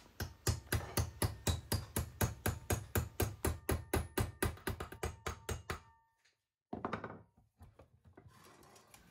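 Rapid, evenly spaced hammer blows ring out on metal held in a vise, bending a Kawasaki Z1 engine cover, close and loud, about thirty strikes, then a pause and a short final burst of hits.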